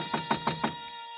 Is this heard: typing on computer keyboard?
no